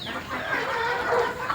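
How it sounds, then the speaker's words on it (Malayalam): Many chickens on a chicken farm cluck and squawk together in a dense, continuous chorus, fairly near, with no speech. "ഇതാണ് എൻ്റെ കോഴി ഫാം."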